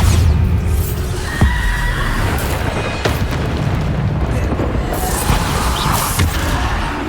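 Bombarda blasting spells exploding in the game Hogwarts Legacy, loud booming blasts over a busy battle din, with a horse neighing and other game effects mixed in.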